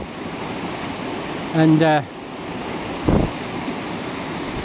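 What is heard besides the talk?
river water flowing, East Lyn river on Exmoor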